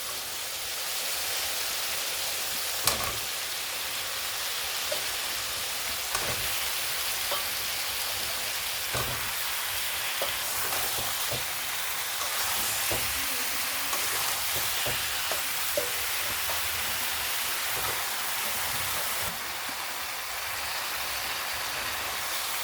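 Jackfruit fries with ground garam masala in a wok, a dense, steady sizzle and crackle that runs throughout, with occasional scraping stirs and taps close up and no talk.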